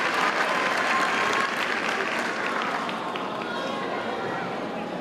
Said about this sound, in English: Let's give the newly commissioned 2nd Lieutenants and their family a round of applause.